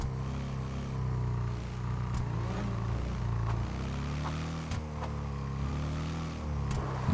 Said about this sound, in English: This is like the only motorcycle that you could do a burnout.